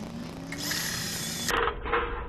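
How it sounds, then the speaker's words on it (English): A power drill driving screws during installation of tin on a John Deere 9760, a short whining spin that rises in pitch, followed by a couple of rougher bursts as the screw seats. "Okay, I got 2 screws in,"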